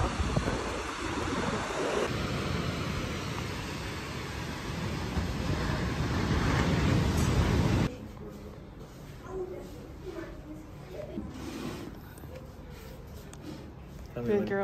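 Surf rolls onto the beach at Uluwatu, Bali, as a loud, continuous roar with wind noise for about eight seconds, then drops to a softer wash while people talk nearby.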